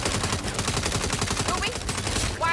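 Rapid gunfire in the Saints Row video game, dense bursts of automatic shots rattling continuously and loudly throughout.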